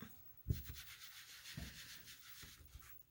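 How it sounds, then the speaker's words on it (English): Foam sponges dab paint onto a surface for a poinsettia painting, blending colors, heard as soft, quiet rubbing strokes with a few duller taps, alone with no talking. "I'm just going to use some foam sponges."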